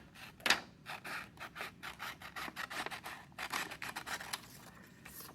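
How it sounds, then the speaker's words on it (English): Paper lighthouse shapes being cut out with scissors, a run of short crisp snips and rasping strokes in a steady rhythm, close and moderately quiet with no voices. "then you can go ahead and we'll cut out the other sides"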